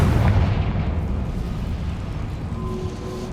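A Confringo fire spell bursts in a Hogwarts Legacy wizarding fight, a loud, close boom at the start that fades into a long rumbling tail.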